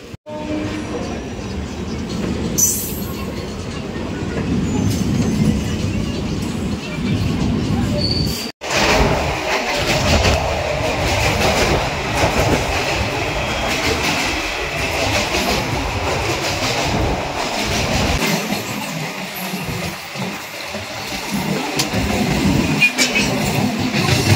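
A train at Chakdaha railway station in West Bengal rumbles steadily for over twenty seconds, a broad continuous rail roar with faint clickety-clack, loud and close, with a brief dropout partway through and voices faintly in the background.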